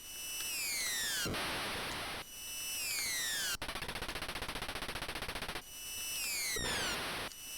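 Bursts of chiptune gunfire from the Akira video game: rapid machine-gun rattles between harsh noise blasts, with descending electronic whistles sweeping down between volleys, loud and close with no talk.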